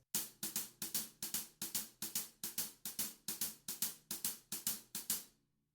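Drum strokes of a 16-beat groove played as swing triplets, in a lilting, uneven long-short pattern, hits grouped in swinging pairs with a steady pulse, played alone and fading at the end.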